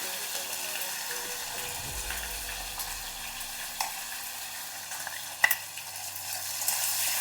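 Small fish sizzle steadily in a pan with mustard tempering as a tomato goes in, a continuous close frying hiss with faint stirring and a soft clack partway through.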